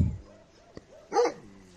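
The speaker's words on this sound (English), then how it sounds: "This is one of the dogs rescued from the animal abuse case with the horse." A rescued dog from an animal abuse case gives a single short, fairly loud bark near the end, with a faint click just before and soft background noise otherwise.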